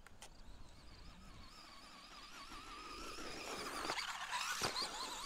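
A Traxxas Stampede RC truck's motor whines as it bashes through sand, the wavering high-pitched tone building in loudness toward a sharp thump near the end.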